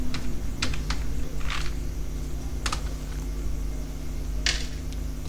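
Several keystrokes tapped on a computer keyboard, sparse and irregular, close and fairly crisp over a low steady hum.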